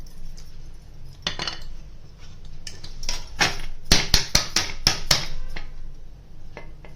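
A metal utensil loosens the edges of a cooled jowar dhokla and lifts it onto a plate. It starts with scattered scrapes, then quick clustered clinks and taps against the dish that fade at the end.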